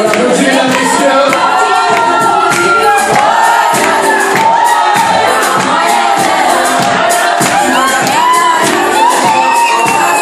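A crowd at the Miss Prestige Réunion beauty pageant cheers loudly, with shouts and whoops over continuous applause lasting throughout.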